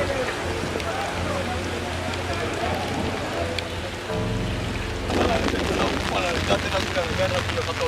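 Steady rain pours down with a constant hiss, traffic rumbling underneath and a louder wash of sound in the last few seconds.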